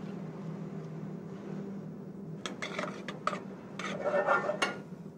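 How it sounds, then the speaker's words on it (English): A knife julienning chanterelle, shiitake and cremini mushrooms on a cutting board, a quiet kitchen hum broken by a cluster of short, crisp cutting and scraping strokes in the second half. "Julienne up some chanterelles, some shiitakes, some cremini mushrooms."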